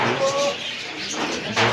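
Pigeons and doves in a pet bird shop that also keeps lovebirds and cockatiels give a short soft coo and a few chirps close by, with voices in the background.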